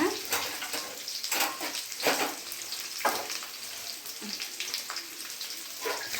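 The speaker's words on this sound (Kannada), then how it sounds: "ಈ ಕ್ಯಾಪ್ಸಿಕಮ್ಮು ಈಗಲೇ ಹಾಕ್ತಾ ಇದ್ದೀನಿ ಈರುಳ್ಳಿ ಜೊತೆ" Capsicum, onion and green chillies fry in hot oil, producing a continuous close sizzle. Irregular scraping and stirring bursts recur every second or so.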